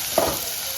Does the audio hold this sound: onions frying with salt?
yes